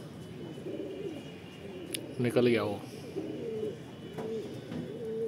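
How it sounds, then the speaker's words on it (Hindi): Pigeons coo softly in repeated low burbling calls as they land nearby, accompanied by a brief flutter and chirp, while someone talks over them. "ये देखिए दोस्तों, हमारे सारे कबूतर ये आ गए उतर करके नीचे"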